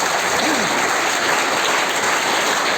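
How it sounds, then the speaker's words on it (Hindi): Loud applause from the audience at a school function after a play, a dense, sustained crackle of many hands clapping with a faint steady hum underneath. "इस फंक्शन को आयोजित करने के लिए एक बार आप पवन सर के लिए जोरदार तालियां बजाएंगे।"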